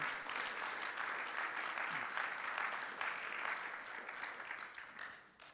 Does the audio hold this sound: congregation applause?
yes